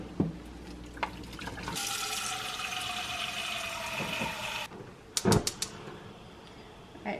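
Water pours and splashes steadily as a pot of orange slices is drained, a continuous rushing flow lasting a few seconds, then cutting off into a few clanks and small knocks.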